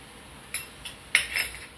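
A metal spoon clinks against a pot while red chili powder is added for Maharashtrian masvadi, three or four short, bright taps spaced unevenly over a quiet background.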